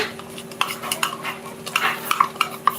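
Chili powder is stirred into hot oil in a pan, with rapid, uneven scraping and clinking of a spoon against metal over a faint sizzle.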